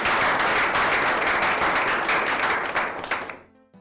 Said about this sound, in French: Applaudissez une fois de plus pour un moment.